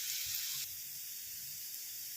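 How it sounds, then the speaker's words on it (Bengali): Potatoes fry in a pan with a steady, close sizzling hiss that holds evenly throughout, with no talking. "আলুটা দেখুন মোটামুটি ভাজা হয়ে গেছে"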